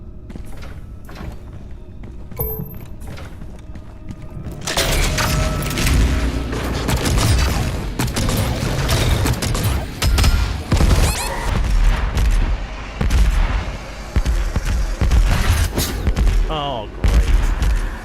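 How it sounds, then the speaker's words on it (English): Hellzone grenade explosions and surrounding combat in Doom Eternal, with heavy booms and thuds firing in rapid succession, a loud, dense barrage that sets in after a quieter opening. "Grenade. Hellzone grenade."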